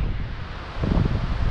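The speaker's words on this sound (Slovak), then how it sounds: "strašne fúka, úplne mi šnúru dvíha z vody" Strong wind gusts buffet the microphone beside a small creek while fly fishing, a steady rushing roar that swells louder in the second half, with no voices.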